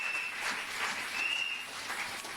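A church congregation at a women's deliverance seminar applauding, a dense, steady wash of many hands clapping at a distance, with a faint sustained tone running through it.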